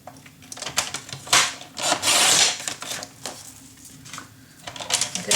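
Scissors or a blade cutting through black cardstock, close and fairly loud, with repeated rasping strokes and a longer, louder cut near the middle; no talking.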